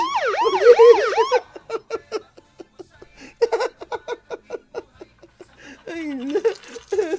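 A wailing police siren sound effect rises and falls in rapid sweeps for over a second, then gives way to talk and laughter, with a rolling siren-like wail returning near the end.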